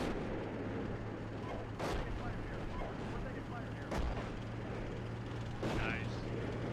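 Incoming artillery fire in the Steel Beasts Pro PE tank simulator: three sharp distant booms spaced a couple of seconds apart, each with a short rumbling tail, over a steady low engine drone and hiss.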